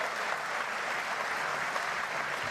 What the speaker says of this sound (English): he deserves this applause